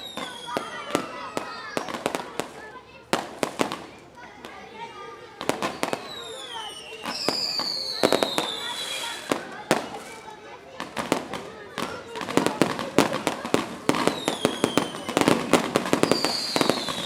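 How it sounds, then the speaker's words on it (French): Fireworks crackle and bang repeatedly outside a residence in Cureghem, Brussels, with whistling rockets rising between sharp bursts and voices speaking underneath. "c'est sous les feux d'artifice qu'elles quittent le foyer."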